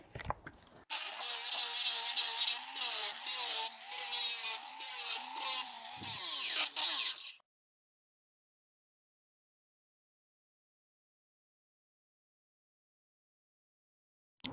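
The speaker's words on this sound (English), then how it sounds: "get one of these big old rubber wheels, thread some sort of a coarse piece of sandpaper on there," An angle grinder fitted with a coarse sandpaper-wrapped rubber wheel sands wood in a harsh, loud whine for about six seconds, with its pitch dipping under load, and then cuts off into silence.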